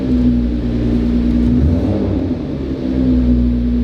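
A Nissan R35 GT-R engine hums loudly and close by with a steady low rumble and a sustained whirring tone. The pitch dips slightly midway, then holds as the revs come back up.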